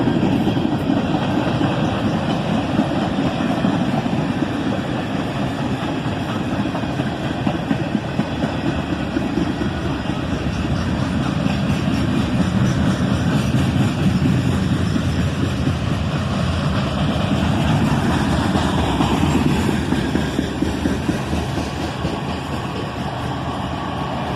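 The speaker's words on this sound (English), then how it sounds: "And check that out, 4 locomotives on this guy. An ET44AH, a pair of ES44DCs, and an ES44ACH." A long freight train hauled by four locomotives, an ET44AH, two ES44DCs and an ES44ACH, rumbles past close by, with a steady, loud roar of engines and rolling wagons that holds for the whole stretch without any talk.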